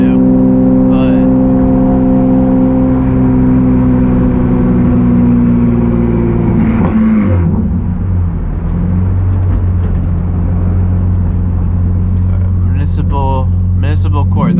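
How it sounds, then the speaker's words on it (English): A steady, loud engine drone and road rumble fill the cabin as a car drives past a municipal court. A voice speaks over the noise throughout. "I'm driving through the front of the court right now."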